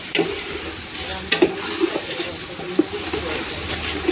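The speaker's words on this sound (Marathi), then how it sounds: "मम्मी तिला घालायची अद्रक लसणाची पेस्ट टाकली ह्याच्यामध्ये" Ginger garlic paste frying in a hot pan at home, giving a steady sizzle with a few sharp stirring clicks and scrapes spread through, fairly close and with no talking.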